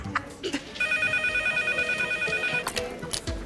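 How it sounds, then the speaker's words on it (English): An emergency telephone rings in a hospital casualty department with a steady electronic tone that holds for about two seconds, close and loud, while background bustle and movement go on around it. "As the code red phone rings"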